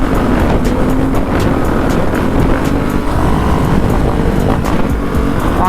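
A dirt bike engine running loud and steady while riding through Chicago streets, a constant close motor drone with wind buffeting and no clear rev peaks or talking.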